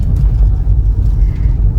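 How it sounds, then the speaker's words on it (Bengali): A car passes close by on a road near Purbachal American City, a loud, continuous low rumble that fills the whole short stretch with no one talking. "এই যে গাড়ি"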